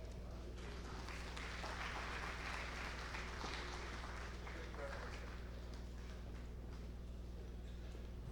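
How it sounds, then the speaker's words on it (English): An audience applauding a speaker at the National Diaspora Day celebrations, a steady, distant patter of many hands clapping, faint and continuous, with a voice speaking over it. "Please give him another round of applause"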